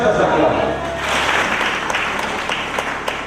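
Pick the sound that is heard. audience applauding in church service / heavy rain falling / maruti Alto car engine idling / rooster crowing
audience applauding in church service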